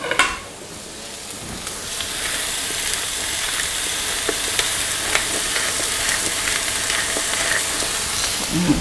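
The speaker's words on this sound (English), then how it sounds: "I just hear the sizzle." Grass-fed steak sizzles steadily in a hot pan, a dense continuous frying hiss with occasional crackles and pops, close and fairly loud, with no talk over it.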